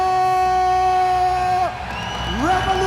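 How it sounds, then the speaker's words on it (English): A fight-night arena crowd at the RWS tournament in Phuket, Thailand roars with sustained cheering and whoops for a Brazilian fighter as he is introduced. A strong sung or held vocal tone rises above the crowd noise throughout. "Let's hear it for Bento"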